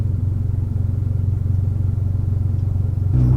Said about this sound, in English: This is what it sounds like idling inside the vehicle.